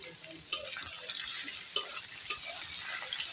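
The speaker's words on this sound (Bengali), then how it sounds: "এই গাজরগুলো দিব আর আলু দিব একসাথে এগুলো ভাজবো" Chopped carrots and potatoes fry together in a pan with a constant sizzle, punctuated by three sharp clacks of a utensil stirring against the pan; no speech.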